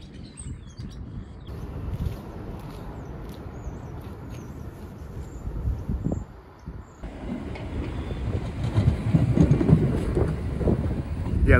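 Staten Island Railway train running, a steady rumble and rattle of rail cars that grows louder and rougher toward the end, with faint high squeals over the continuous noise.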